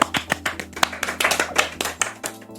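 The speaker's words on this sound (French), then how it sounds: "Des applaudissements partout dans le studio," A small group claps in a podcast studio, a short burst of quick, close, uneven hand claps with no talking over it.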